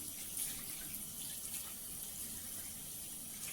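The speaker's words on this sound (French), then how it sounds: "Vous rincez vos mains, mais vous ne fermez pas le robinet à main nue." Tap water runs steadily and quietly over hands being rinsed during a home-care hygiene routine, a faint continuous hiss and splash with no voices.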